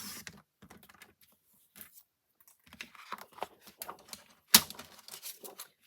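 Designer series paper is trimmed by hand, giving scattered soft scrapes, light slicing strokes and paper handling rustles at close range. One sharp snap stands out near the end.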